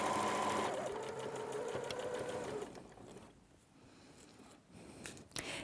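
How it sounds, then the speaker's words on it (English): A sewing machine fitted with a zipper foot runs steadily along a zipper edge while sewing a pouch, loud at first, then quieter with a few gaps and a brief burst near the end. "Keep sewing along, and you will find that your zipper foot will guide you quite nicely"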